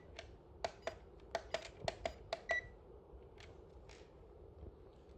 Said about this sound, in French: si j'appuie sur le joystick, j'entends un bip